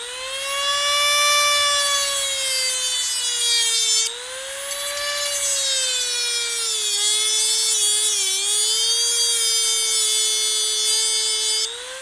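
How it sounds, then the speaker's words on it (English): A Dremel rotary tool cuts a plastic pin on a Honda CRF250L motorcycle, a loud sustained high-pitched whine with slight pitch dips as it bites into the material, running alone for about twelve seconds. "we're gonna have to get the Dremel out"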